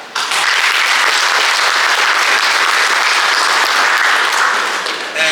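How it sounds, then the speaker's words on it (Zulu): A crowd claps loudly and continuously for several seconds at a birthday and end-of-year function, a full, sustained round of applause with no talking. "ngicela ukuthi nje ningiphi ihlombe"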